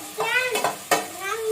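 Chopped potatoes and carrots hit a hot pan for a vegetable biriyani, giving a few quick stirring clatters and a short burst of sizzle up close.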